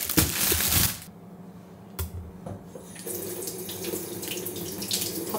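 Taro roots being washed under a running kitchen faucet, the water gushing loudly into the sink for about a second, then a quieter stretch of dripping and splashing with small clatters as the roots are handled.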